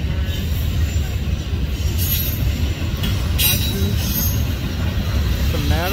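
A Norfolk Southern westbound intermodal freight train with a newly rebuilt AC44C6M locomotive rolls past close by in Berea, a loud, steady rumble of railcars with wheel squeal rising near the end.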